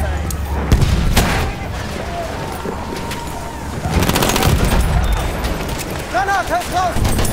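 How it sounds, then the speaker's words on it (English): Volleys of rifle and machine-gun fire crack from one side in a Battlefield 1 battle, bursts and booms rattling on and off through the whole stretch while voices shout over the fighting. "there's still shooting from the side, left side"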